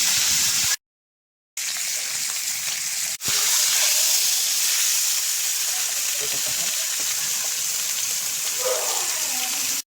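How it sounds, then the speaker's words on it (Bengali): Fish coated in salt, turmeric and chili powder fries in hot oil with a steady, close hiss and sizzle that cuts out briefly, then resumes. "এখন দেখাবো কিভাবে ভাজতে হয়"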